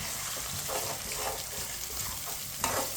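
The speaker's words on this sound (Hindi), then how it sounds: "इसे मिक्स करते हुए पका लेंगे 2 मिनट के लिए।" Eggs being stirred and cooked into carrot halwa in a pan, a steady close sizzle with soft scraping stirs and a brief clink near the end, no voices.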